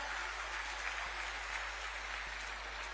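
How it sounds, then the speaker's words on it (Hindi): Applause from a crowd at an official welcome ceremony in Jharkhand, a continuous, fairly distant wash of clapping at low, even volume over a steady low hum. "तालियां आप सबकी तरफ से जोरदार हों।"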